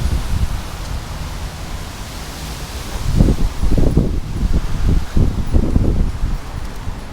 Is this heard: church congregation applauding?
no